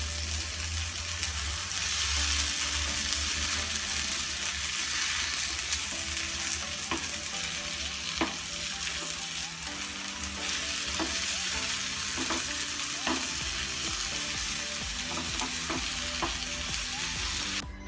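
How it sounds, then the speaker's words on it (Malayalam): Egg for bread anda bhurji sizzles steadily in a hot pan while a utensil stirs and scrapes through it, a loud continuous frying hiss with scattered clicks of the spoon against the pan. "ഇനി നമുക്കിത് നല്ലപോലെ ഇളക്കണം."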